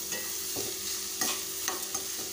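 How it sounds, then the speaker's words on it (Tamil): Beetroot pieces for a coconut-free poriyal are stirred in a pan, with several scraping strokes and clinks over a steady low sizzle. There is no talking. "நல்லா கிளறி விட்டுக்கோங்க"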